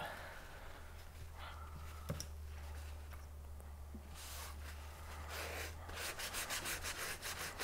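Alcohol ink being wiped off etched Faux Bone: soft, steady rubbing strokes near the mic that grow into a quick run of brisk scrubbing passes toward the end.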